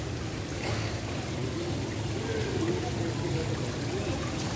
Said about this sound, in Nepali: यहाँ चाहिँ पानी छ, फाउन्टेन टाइपको रहेछ, सानो फाउन्टेनै हो